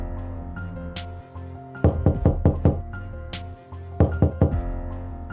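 Knuckles rap on a door in a drama scene, in two clusters of about five quick, loud, close knocks separated by a pause, with a low hum underneath.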